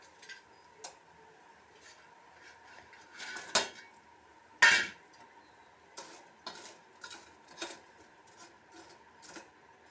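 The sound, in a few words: jalebis being put into sugar syrup in a pan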